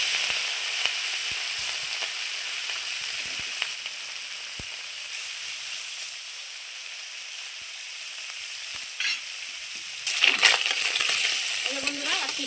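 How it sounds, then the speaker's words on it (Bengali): Maya fish fillets, coated in spice powder, sizzle in hot oil in a pan: a loud continuous crackling fry with scattered pops, growing briefly louder and busier near the end. "এইবার আমি মাছগুলো সব ছেড়ে দেবো একসঙ্গে।"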